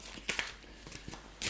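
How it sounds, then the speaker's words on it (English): Tarot cards being shuffled by hand close up, a quiet series of soft papery riffles and slaps with irregular bursts, including a brighter flurry at the end. "Shuffle cards."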